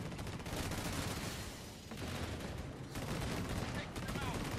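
Dense, continuous gunfire from the video game Disintegration, rapid bursts and explosions layered loudly throughout with a brief lull near the two-second mark, while someone talks over the action.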